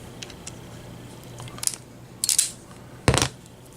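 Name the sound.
pulling foil shield off a shielded wire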